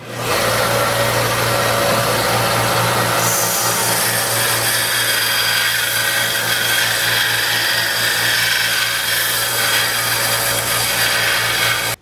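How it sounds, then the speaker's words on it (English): A belt sander runs steadily and loud throughout, its continuous motor hum layered with gritty rubbing as deer antler knobs are pressed against the belt to round their edges. "take this thing over this belt sander and we're going to round the edges off"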